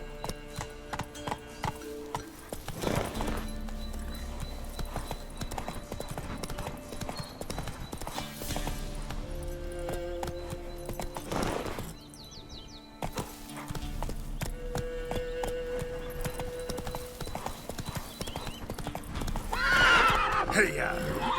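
Roach, the horse in The Witcher 3, gallops with rapid, steady clip-clopping hoofbeats and lets out several loud whinnies, with bursts of game sound and other effects mixed in.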